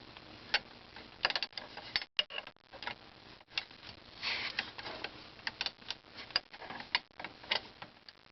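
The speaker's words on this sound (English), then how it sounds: "I'm going to put an 18mm wrench on this end, and I've got my box end wrench on the other side of that bolt" An 18mm wrench and box-end wrench loosen a steering rack bolt on a 2006-2016 Chevrolet Impala, giving faint, irregular ratcheting clicks and metallic ticks close by, with no talk.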